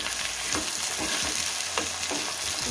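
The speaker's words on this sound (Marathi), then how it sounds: "छान परतून घ्यायचे आपल्याला" Vegetables sizzle steadily while being sautéed in a pan for a Bhogi thali, with a spatula scraping and stirring in regular strokes throughout.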